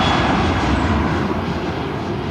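A fixed-wing airplane passes low near Karipur airport during an early-morning go-around, its engines producing a loud, steady roar that fills the whole stretch and eases slightly toward the end.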